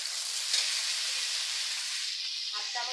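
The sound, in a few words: potatoes, carrots and drumsticks sizzling as added to pan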